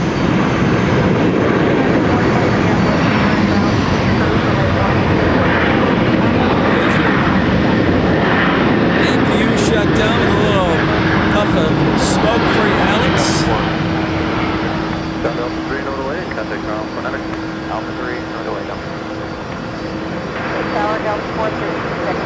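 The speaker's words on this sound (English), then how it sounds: "Delta 10 Heavy, taxiing out." A Delta heavy jet airliner taxis at Minneapolis–St. Paul airport, its engines a loud, steady roar with a rising whine, while people talk over it throughout.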